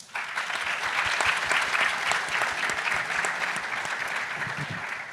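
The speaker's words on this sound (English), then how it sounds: "Big round of applause." Audience applause at a panel event on authoritarian influence, steady dense clapping that holds from start to finish, fairly loud and with no voices over it.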